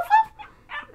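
A person's voice imitates a puppy, giving a few short, high yips and whimpering barks in quick succession, close and clear.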